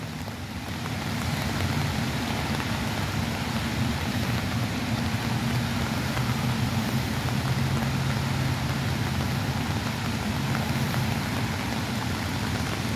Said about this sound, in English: a lot of rain, but you cannot see anywhere flooding.